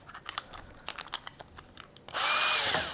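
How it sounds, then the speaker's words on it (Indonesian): Tekiro CD-HD2047 12V cordless hammer drill boring with a size 16 spade bit on speed and torque setting 2: a few scattered knocks, then a loud, steady whirring grind from about two seconds to the end. "Kemudian saya akan cobain juga pakai mata bor kipas. Ini nomor yang 16."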